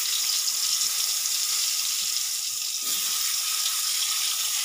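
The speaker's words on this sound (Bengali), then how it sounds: "এবার আমি আমগুলো ভেজে নেব।" Green mango pieces frying in hot oil for a Bengali shol fish curry, giving a steady, even hiss and sizzle that continues without pause throughout.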